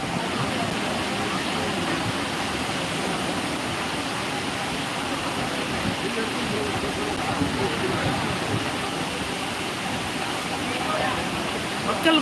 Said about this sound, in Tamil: இன்னைக்கு தண்ணி பாருங்க எப்படி கொட்டிட்டு இருக்கு